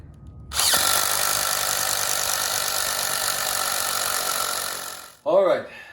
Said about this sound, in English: I'm using a 5/8 drill bit